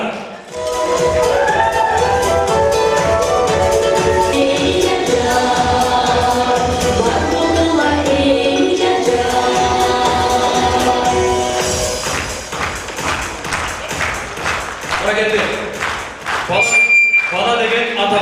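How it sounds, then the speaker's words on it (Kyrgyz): Wedding guests in Bishkek stand and applaud as the couple enters, a sustained burst of clapping blended with loud music and voices throughout. "Ордубуздан туруп, кол чабуулар менен тосолуңуздар."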